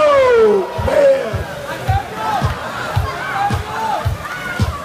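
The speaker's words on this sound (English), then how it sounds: "The crowd goes wild." Crowd at a drone battle competition roaring and shouting in sustained waves, with voices rising and falling over a continuous babble and some rhythmic thumps underneath.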